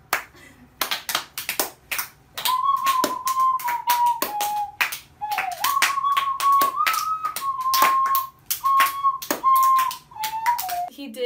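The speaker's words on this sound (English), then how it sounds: "Come on, clap!" A studio audience claps along in a steady rhythm, sharp close taps repeating over a sustained whistled or hummed melody, with a few brief breaks in the beat.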